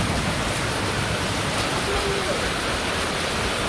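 Heavy rain pours down over a village, a dense, steady hiss that stays loud and even throughout with no breaks.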